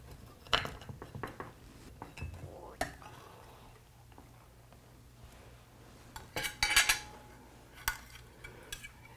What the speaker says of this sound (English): So we're going to cut a slice.